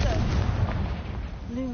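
A booming blast from the Confringo fire spell in the video game Hogwarts Legacy, a heavy low explosive rumble that fades quickly, with a brief voice cry layered in.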